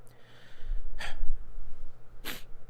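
Wet nasal sniffles from a person crying, two sharp bursts about a second apart, close and fairly loud over low background hum, with no talking.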